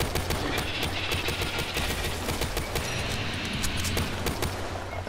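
Sustained automatic gunfire in Call of Duty: Black Ops III during a giant spider boss fight, a fast, steady stream of sharp shots running the full length at constant loudness, with no voices.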